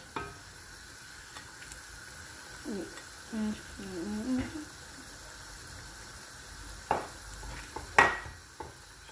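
Tomato puree going into a pot of simmering sauce for corned beef jollof, with low sizzling and several scraping stir strokes near the pot, some sharper clinks toward the end.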